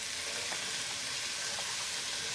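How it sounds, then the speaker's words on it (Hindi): Potatoes, cauliflower, capsicum and peas frying with spices over high flame in a pan for pav bhaji, giving a steady, even sizzle throughout with no talking. "मसाले के साथ में सब्जियों को फुल आंच पे 2 मिनट भून लेंगे"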